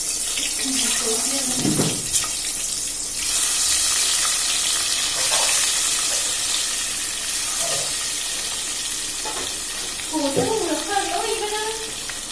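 Water is poured into a simmering curry of eggs and drumsticks in oil with turmeric, making a steady hissing, splashing wash close by, with faint voices in the background.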